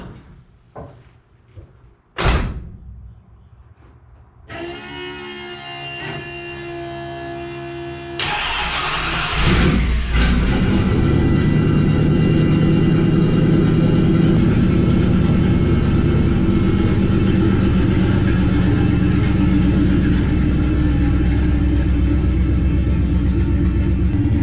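A 1969 Valiant with a Turbo 360 engine cranks after a few clunks, catches, and settles into a loud, steady idle that rumbles on without a break.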